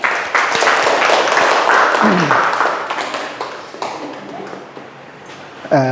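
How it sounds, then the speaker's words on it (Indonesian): A lecture audience gives a dense burst of applause that gradually thins and fades over several seconds, with a voice speaking briefly at the end. "Kita beri aplaus untuk kita semua."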